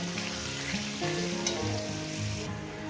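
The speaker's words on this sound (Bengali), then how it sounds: "মিনিমাম সাত আট মিনিট ধরে আমি আলুটাকে ভেজে নেব" Steady, dense sizzling of potatoes frying in hot oil, continuous and close, with faint clinks of stirring in the pan.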